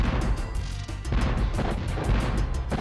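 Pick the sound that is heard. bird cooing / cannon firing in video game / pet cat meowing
cannon firing in video game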